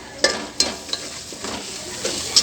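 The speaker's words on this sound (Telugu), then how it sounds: "వేసి బాగా కలపాలి." Chat masala and garam masala are stirred into pasta sauce in a pan, a soft steady sizzle under scraping strokes and a few light clinks of the spoon against the pan, with no voices.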